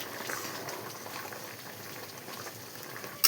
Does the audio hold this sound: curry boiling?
yes